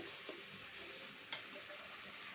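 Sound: spice masala being sautéed and stirred in a pan

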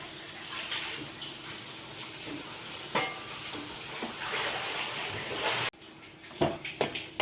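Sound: stirring cooked horse gram stir-fry in a pan

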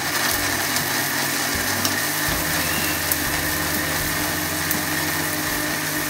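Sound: mixer grinder grinding coconut pieces without water

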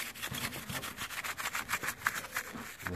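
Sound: dish brush scrubbing a uPVC window

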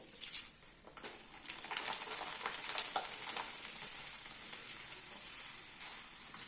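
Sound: frying maize flakes in hot oil

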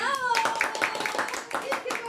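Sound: applause at a birthday celebration

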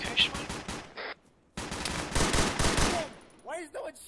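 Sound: gunfire in a video game

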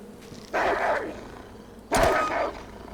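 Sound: wolf attacking and snarling in H1Z1 video game

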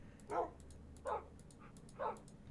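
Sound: dogs barking in Minecraft video game

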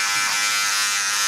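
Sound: electric hair clipper buzzing, blade fully closed, tapering neck

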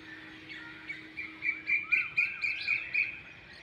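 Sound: birds singing at sunrise near a poultry farm

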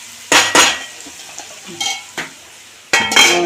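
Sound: lid being put on a cooking pot

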